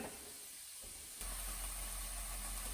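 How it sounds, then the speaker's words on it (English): Onion and mushroom sauté in a pan with a steady, soft hiss and sizzle that grows slightly louder partway through and continues evenly. "So I'm going to wait for this to saute a little bit."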